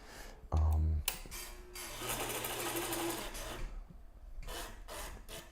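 A sewing machine stitches a straight line close by in a steady whirring run of a few seconds, preceded by a sharp thump and followed by quieter handling sounds.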